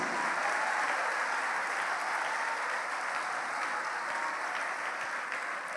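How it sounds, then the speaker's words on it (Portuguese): A church congregation applauds during a worship service, a continuous wash of many hands clapping at steady volume throughout. "E vamos aplaudir mais ao nome de Jesus."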